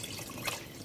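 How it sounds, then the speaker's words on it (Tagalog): Water pours into a pot of chicken sopas in a short, steady, soft splashing stream. "magdadagdag pa ako ng tubig"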